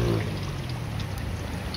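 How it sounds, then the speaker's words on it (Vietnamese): Bottled spring water pours steadily into a bowl where crayfish are soaking, a continuous close splashing stream with no talk over it. "Cho nước suối, mà nước suối nó sạch mà"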